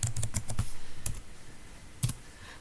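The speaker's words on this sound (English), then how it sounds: "type cmd, go to cmd prompt command and type ipconfig." Keystrokes on a computer keyboard entering the ipconfig command at a Windows Server 2012 command prompt: a quick burst of clicks, a lone press near the middle and a final key tap, close and clear in a quiet room.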